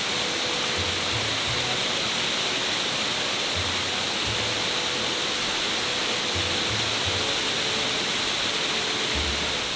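A waterfall on the Two Bridges Trail in the Massachusetts Berkshires roars as a constant, dense rushing hiss, with occasional soft low thumps underneath and no talking.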